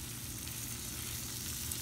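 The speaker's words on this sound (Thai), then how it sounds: "แล้วก็ใส่เนยลงไปนะคะใส่เนยลงไปในกระทะ" Steady sizzling and crackling of butter frying in a hot pan for shrimp pasta, close up and continuous, with no talking.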